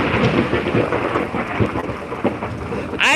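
Loud rumbling thunder from close lightning strikes during a cold convective storm, rolling continuously over steady rain, with a sharp crack near the end.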